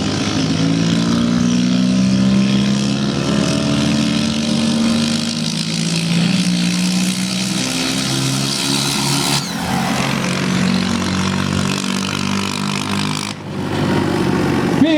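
Two Valmet 361 tractors race side by side in a 2015 tractor pull, their engines loud and close, revving hard with rising and falling roars before easing off and surging again near the end.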